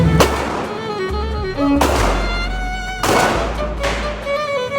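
Handgun shots ring out at a firing range during concealed carry training: loud, sharp reports spaced roughly a second apart, each followed by a lingering ringing tail.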